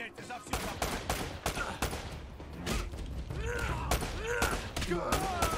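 Gunfire in Uncharted: Drake's Fortune rings out as a rapid, irregular string of sharp shots and bursts close up, with a voice talking between the shots.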